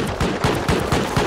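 Automated turret in the modded survival game Rust opening up in rapid bursts of gunfire, loud and close, with repeated sharp shots packed into a continuous stream for the whole stretch.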